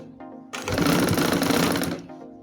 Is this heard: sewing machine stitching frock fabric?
yes